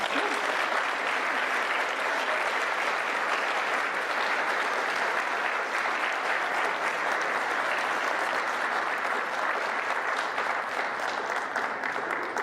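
A graduation ceremony crowd gives sustained, loud applause after a speech. Steady dense clapping fills the whole stretch without a break.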